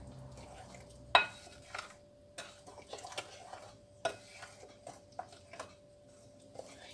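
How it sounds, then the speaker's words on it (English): A spoon working banana bread batter with butter in a bowl, soft scraping strokes broken by sharp clinks against the bowl, fairly quiet and close, with no voices. "you can slowly add your butter to this as well. And then you mix it up again."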